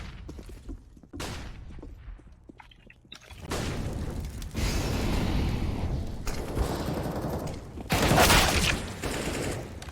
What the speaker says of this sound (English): Nice shots from Dexter.